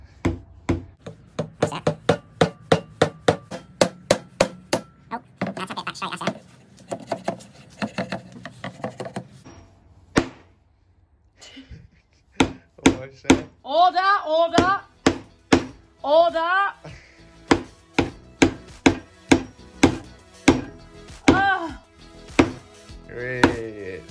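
Hammer driving nails to join pieces of wood, heard as a long run of sharp, evenly spaced close strikes, briefly pausing while a voice speaks in between.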